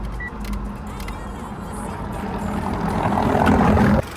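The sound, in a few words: car engine idling, warmed up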